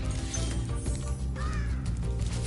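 A bird caws in the Spyro Reignited Trilogy video game, a few harsh calls over steady low game ambience and music.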